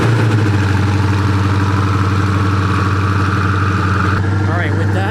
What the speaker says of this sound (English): Might get another start up here.